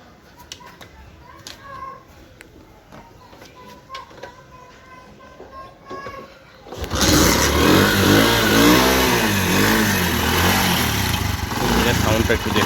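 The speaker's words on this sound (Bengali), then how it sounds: "এক কিকে স্টার্ট। একটু কিকটা মেরে দেখায় আপনাদেরকে।" A used motorcycle is kick-started: a few seconds of quiet clicks and mechanical ticking, then the engine catches abruptly and runs loudly with an uneven, throbbing idle close by.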